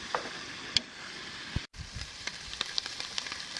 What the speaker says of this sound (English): what I'm doing now is just browning up some ground turkey, a pound of ground turkey